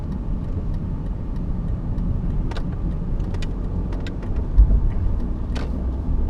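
A 2003 BMW 318ti E46 Compact with a 143 hp engine cruises in fifth gear below 4000 rpm, giving a steady low engine drone and road rumble heard from inside the car, with small clicks and no speech.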